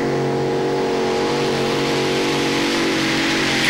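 The Super Special pulling tractor, powered by Keith Black engines, roars loud and unbroken at a 1996 European tractor pulling event in Bernay, France, a thick sustained engine howl filling the whole stretch.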